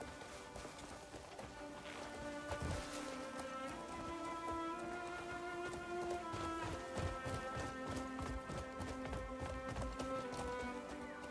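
A horse gallops in the video game Crimson Desert, with rapid, steady clip-clop hoofbeats running throughout alongside a layered in-game music bed, no talking over it.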